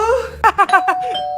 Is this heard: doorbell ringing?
yes